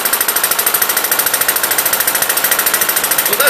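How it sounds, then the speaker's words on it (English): A Webster stationary engine running under governor control, sounding a fast, steady, evenly spaced mechanical knocking beat, loud and close, with no talk. "the engine starts to rev up, so it closes the throttle to maintain that speed"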